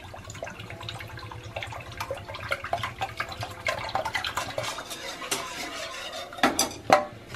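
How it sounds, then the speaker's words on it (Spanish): Evaporated milk poured into a cooking pot, a soft liquid stream with light clinks and stirring-like scrapes, ending in a few louder clatters. "Le voy a agregar lo que es la leche evaporada"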